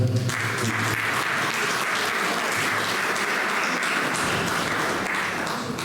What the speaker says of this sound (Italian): Un applauso a Teresa